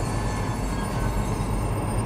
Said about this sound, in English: That kind of grinding kind of sound. The wheel slip.